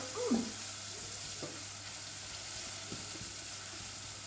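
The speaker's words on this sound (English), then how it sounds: "you just let it fry for about a minute" Onions with a pinch of white pepper fry quietly in a pan, giving a soft, steady hiss with a few light stirring scrapes near the start, and no talking.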